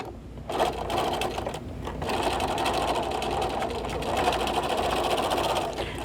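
A sewing machine stitches a quick zipper case with back stitching, a steady fast mechanical whirring and chattering that runs continuously after a brief start and pause, close and loud.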